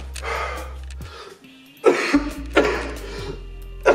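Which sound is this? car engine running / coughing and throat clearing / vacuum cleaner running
coughing and throat clearing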